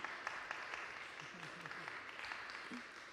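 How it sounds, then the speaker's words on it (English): Faint applause from a small audience for a pianist and a singer at a church noon concert, a soft, steady patter with a few murmuring voices mixed in. "Let's give them both another round of applause."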